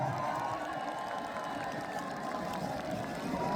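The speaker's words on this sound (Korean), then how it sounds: "감사의 박수 한번 부탁드립니다." Outdoor festival crowd in Dangjin clapping in thanks after a trot singer's set, a steady wash of applause and murmuring that holds evenly throughout with no talk over it.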